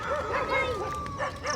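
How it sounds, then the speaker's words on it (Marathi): A dog in a children's park whimpers and yips in rising, wavering cries at moderate distance, over a continuous outdoor background. "मग असं कुत्रे काय करते ते, ह्या कुत्र्याला भुकते ते काय."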